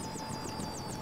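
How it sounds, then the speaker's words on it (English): Enemy helicopter in Modern Warfare Remastered, a steady rhythmic rotor chop with a whining engine tone, loud and constant over a short stretch. "Enemy helicopter approaching!"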